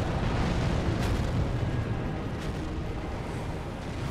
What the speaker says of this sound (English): He's doing the missiles.